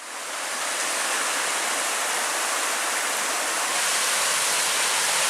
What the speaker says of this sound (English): It's one of my favorite streams because all of the rapids and like tiers of small waterfalls.